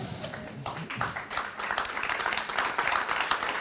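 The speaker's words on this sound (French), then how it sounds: "C'est plutôt sympa d'applaudir avant l'intervention." A conference audience at a social economy and engagement event claps before a speaker begins, a dense patter of hands rising toward the end, with faint room murmur beneath.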